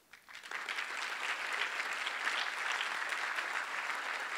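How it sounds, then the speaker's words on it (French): At a gala evening, an audience breaks into warm applause for arriving guests, rising quickly after a brief quiet moment into a sustained, even wash of clapping heard from within the hall. "Applaudissez-les bien fort."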